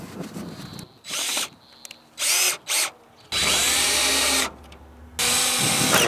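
A power drill drives screws into greenhouse roofing on a shipping container, with several whirring bursts of varying length separated by short pauses, loud and close with no talking.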